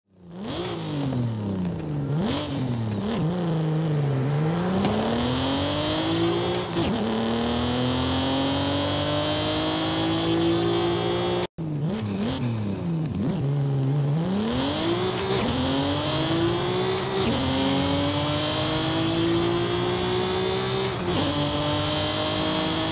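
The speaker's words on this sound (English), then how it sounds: "So although some of these cars sound very different, they have the same engine, just upgraded." Forza Horizon 5 car engines, stock and upgraded with aftermarket exhausts, rev loudly up and down through gears in two back-to-back runs, each climbing through several shifts with a sharp cut between them.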